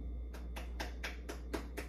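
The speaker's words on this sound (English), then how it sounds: "You're getting claps from my husband, Aquarius." A man claps his hands seven times in an even, steady rhythm, each clap sharp and close, over a constant low hum.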